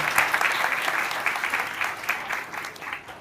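A congregation at a Sunday church service applauding: close, lively clapping from many people that holds steady and then slowly tapers off.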